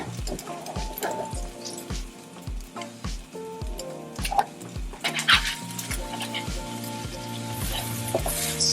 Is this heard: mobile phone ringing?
no